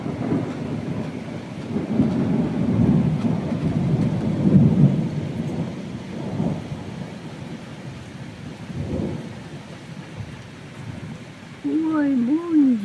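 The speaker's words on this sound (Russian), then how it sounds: "вот это дождик." A spring rain shower in Kharkiv pours steadily while thunder rolls in loud, rumbling swells, with a short spoken remark near the end.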